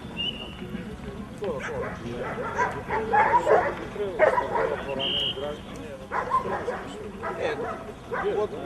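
A Macedonian shepherd dog, a Karaman, barks and yips repeatedly at a national breed show, with people talking over and between the barks.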